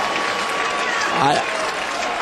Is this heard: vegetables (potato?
no